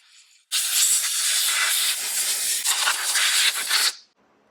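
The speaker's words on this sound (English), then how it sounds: "I'm just blowing off the top of the valve cover to try to keep it as clean as possible" A loud, close burst of compressed air blows off the top of a car valve cover on a 2010 Ford Fusion. The steady hiss lasts about three and a half seconds, then cuts off sharply.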